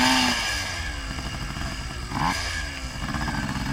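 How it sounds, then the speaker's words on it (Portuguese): A motorcycle engine revs hard and strains climbing a dirt bank on a trail, rising in pitch with clattering mechanical noise, close by and steady for several seconds. "a moto chamando a moto nos peitos pra subir o barranco"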